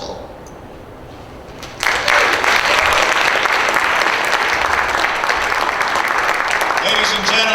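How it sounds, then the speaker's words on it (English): Audience applause at a beauty pageant, bursting in abruptly after a quieter moment and then holding loud and steady, with faint voices beneath it. "let's have a big round of applause"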